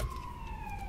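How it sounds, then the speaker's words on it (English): A siren sound effect cued during a live gemstone sale, a single steady wailing tone that dips slowly in pitch, clear and fairly loud for about a second with no talking over it. "Cue siren."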